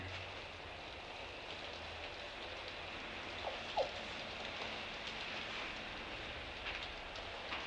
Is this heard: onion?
no